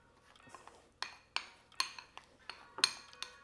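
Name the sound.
mixing butter and seasoning together in a dish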